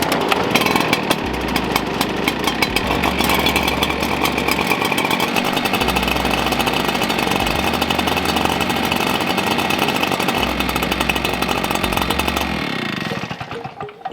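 Small gasoline engines on lawn equipment run continuously and loudly with a steady buzzing drone, the tone shifting slightly with engine speed before cutting off at the end.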